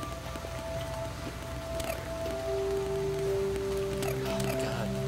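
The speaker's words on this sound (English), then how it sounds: "maybe this hail will end someday" Hail in the Starbound video game falls as a steady, dense pattering hiss that builds slightly, under a sustained game music tone.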